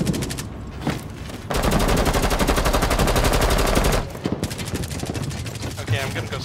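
Rapid automatic gunfire in the first-person shooter Rainbow Six Siege during a team deathmatch round on the Favela map, a long loud burst in the middle with shorter shots around it and people talking over the action.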